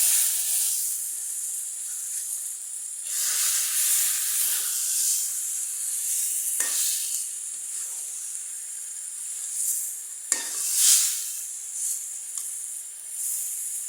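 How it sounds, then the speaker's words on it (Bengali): Nigella seeds, onion and garlic sizzle in hot oil as a tempering for taro-leaf greens, a continuous close hissing that swells and fades in waves with a few sharp spits, no talking. "এখন শুধু কালি জিরা আর পেঁয়াজ রসুন দিয়ে বাগার দিচ্ছি।"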